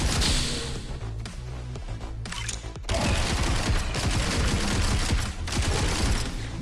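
Gunfire in the VR shooter game Into Black: dense, rapid bursts of shots with mechanical clatter, loud and continuous after a quieter opening stretch.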